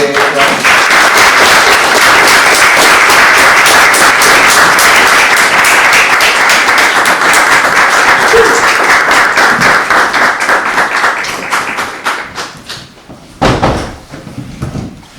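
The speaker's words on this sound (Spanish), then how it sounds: "recibamos con un fuerte aplauso a Eli" A gathering gives strong applause to welcome Eli Wewentxu, a loud, dense wall of clapping that holds steady for about ten seconds, then thins to scattered claps and fades.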